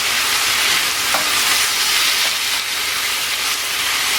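Cumin beef frying in a pan, a steady loud sizzle with hiss and faint scraping of stirring, continuous throughout with no voices.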